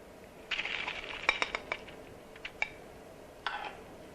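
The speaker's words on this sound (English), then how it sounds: "So we're just going to take a spoon and dip some out" A spoon clinks and scrapes against a plate while hot corn dip is scooped out, a cluster of sharp light taps followed by a couple more isolated clicks, close and quiet.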